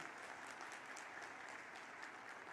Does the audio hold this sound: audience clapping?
yes